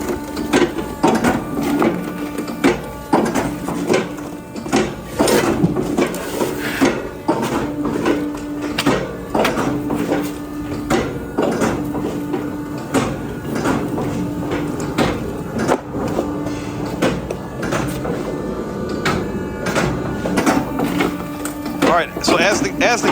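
A Kindlet 200 kindling machine splits wood into kindling with a busy run of close mechanical knocks and clatter, steady throughout, with a voice speaking over it.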